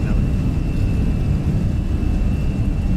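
Steady deep jet engine roar from an FSlabs Airbus A321 at takeoff power in the Prepar3d flight simulator game, a dense continuous rumble filling the cabin with no distinct breaks.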